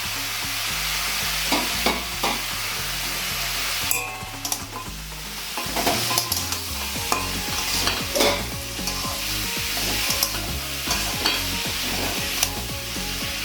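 Ash gourd curry being stirred in a pan, with steady frying sizzle and soft scraping clicks from the spoon under a continuous layer of rhythmic background music.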